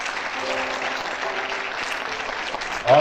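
Sustained applause from a hall full of students at a college freshers' party in Bhopal, steady and fairly loud, with a voice faintly audible beneath the clapping.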